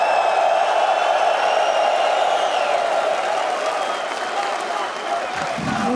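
Esports arena crowd at a Counter-Strike playoff match between MongolZ and FURIA in Astana, Kazakhstan, cheering, whooping and applauding in a dense, sustained roar for the full length.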